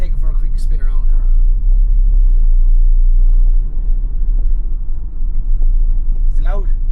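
A converted camper van drives along a road, its heavy low rumble of engine and road noise steady throughout, with voices talking briefly at the start and end.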